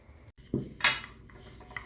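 Homemade kebab meat being placed into dishes, with a couple of moderate clinks of utensils against pots and plates, one low thud followed by a brighter clatter, close by with no talk.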